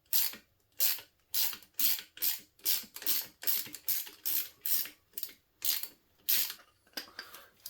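A socket ratchet wrench works bolts loose on a Chinese 70cc ATV, about a dozen close, crisp clicking strokes in a steady back-and-forth rhythm with short pauses between each pull.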